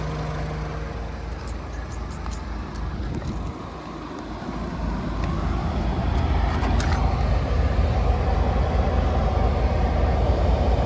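A 2015 Ford Escape's 2.0-liter EcoBoost engine runs with a steady low rumble and some wind noise, swelling somewhat louder about halfway through and holding there.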